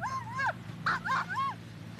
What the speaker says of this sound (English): He's the best guard dog you ever see